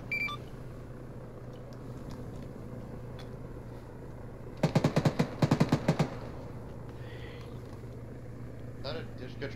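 A quick rattling burst of automatic gunfire fired at a helicopter in the military game ArmA 3, about a dozen sharp shots in a second and a half, heard amid low engine rumble and radio chatter.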